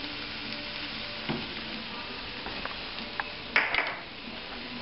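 Eggs with spinach and cheese cook in a pan with a quiet, even sizzle, a few light taps and one brief metallic clink near the end, with no talking.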